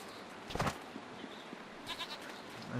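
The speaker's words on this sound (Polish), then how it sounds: "Aha, tu są kozy." Goats in the video game Jade Empire bleat in two short bursts, a louder one early and a softer cluster later, over a quiet game ambience.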